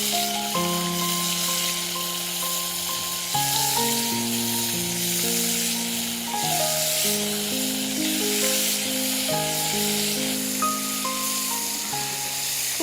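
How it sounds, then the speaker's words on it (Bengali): Fish fillets frying in hot oil give a steady, close, loud sizzle and hiss that runs throughout, with a melodic tune playing over it. "ভাজা পোড়ার আওয়াজটা ইফতারের আগে আগে খুব ভালো লাগে।"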